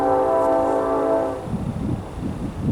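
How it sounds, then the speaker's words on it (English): A Canadian National Railroad train blasts its horn, a loud sustained chord up close, then rumbles past with rolling rail noise. "Canadian National Railroad."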